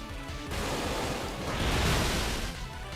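Waterfall move effect from a Pokémon Alpha Sapphire romhack: a dense, steady rushing wash of water noise that swells midway and holds for a few seconds, alone.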